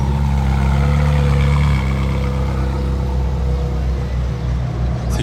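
A McLaren Senna hypercar rolls close behind at the Casino square in Monaco among other supercars, its engine a steady low rumble with harmonic drone that eases slightly after the first couple of seconds, continuous throughout.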